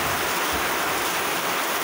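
Heavy rain pours and splashes outdoors during a typhoon, a dense, continuous hiss with no pauses.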